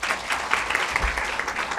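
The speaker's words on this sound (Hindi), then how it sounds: "ताली बजाओ बेटा" Children clap together in a quick, steady stream of overlapping claps, close and lively, for a short burst.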